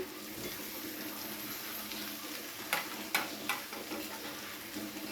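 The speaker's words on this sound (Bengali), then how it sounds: "এবারে মশলার সাথে আলু আর পটলটাকে খুব ভালো করে কষিয়ে নিতে হবে।" Potatoes and pointed gourd sautéing with spices in a pan, a soft constant sizzle with a few brief scraping clinks of the spatula, close and quiet.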